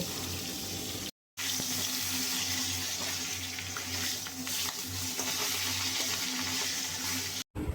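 Fish heads deep frying in oil in a wok over a low flame, a steady rushing, bubbling hiss that stays even throughout, with two brief dropouts and no talking.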